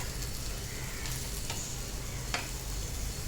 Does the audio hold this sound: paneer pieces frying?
yes